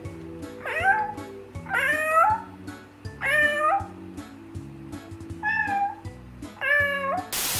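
A man imitates a cat, giving five drawn-out meows in turn, each rising and wavering, loud and close over a quiet repeating background tune.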